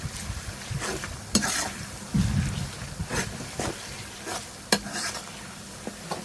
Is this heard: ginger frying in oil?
yes